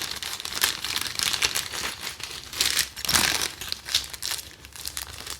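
Plastic wrapping around the accessory pack of a PRS DGT Core electric guitar case being handled, crinkling in irregular close bursts, some louder rustles standing out against a quiet background.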